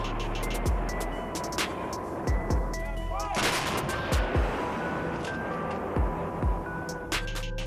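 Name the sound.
Bofors artillery gunfire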